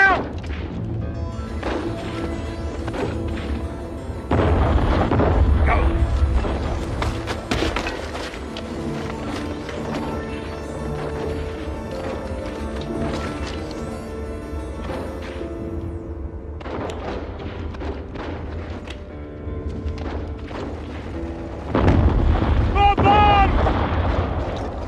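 Bombs exploding in a wartime battle scene with a First World War setting, heavy booms and crashes recurring at intervals over rumbling background noise, with shouted voices between blasts.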